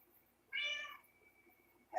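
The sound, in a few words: cat meowing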